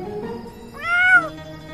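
A cat meows once outside, a clear drawn-out mew rising and falling over a faint low background hum.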